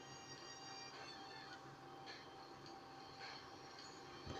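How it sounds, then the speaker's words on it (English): Train in GTA 5 Online rumbling past in a steady, dense roar with metallic rail ringing and faint wheel squeal throughout, fairly quiet and continuous, with no talking. "You're never gonna catch up to that train,"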